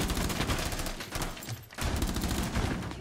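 Dense, rapid automatic gunfire in Rainbow Six Siege runs nearly throughout, close and loud, with a brief pause near the middle before firing resumes.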